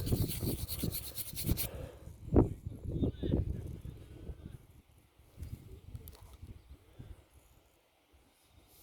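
Close, scratchy rubbing and rasping in short bursts as a dug-up coin is cleaned by hand, loud at first and then fading into quieter, intermittent scraping with a little background noise.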